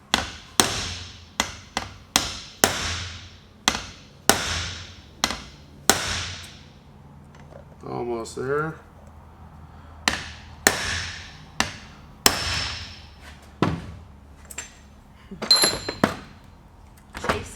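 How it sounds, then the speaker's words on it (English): Sharp metal-on-metal strikes ring out in a brisk, uneven series as a hammer knocks on rear differential parts from a 2001 Chevy Astro van, each hit clinking bright and close; a voice speaks briefly between blows. "Not the hammering, the clinking."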